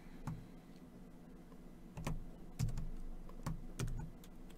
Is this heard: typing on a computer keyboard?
yes